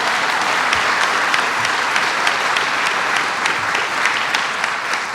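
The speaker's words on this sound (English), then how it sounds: "let's have a big round of applause for a great work product done by Rob Simpson" Steady, dense applause from a large crowd, continuous clapping at an even loudness throughout with no talking.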